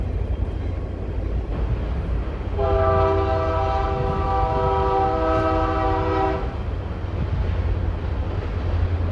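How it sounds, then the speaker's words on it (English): A train rumbles past with a loud sustained horn blast lasting a few seconds over the steady roar of rolling wheels. "But we got the train helping us out, so add some good sound effects."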